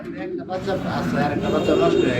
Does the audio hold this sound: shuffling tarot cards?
no